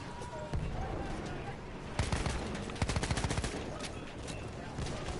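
A new SMG firing in a video game, short rapid bursts of automatic shots at moderate distance under a steady background din, with a voice speaking briefly.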